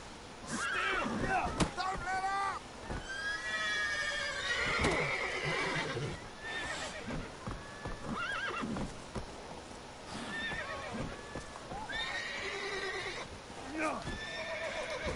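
Horses whinny and neigh several times amid clip-clopping hooves in The Witcher 3: Wild Hunt, with voices talking over the game sounds.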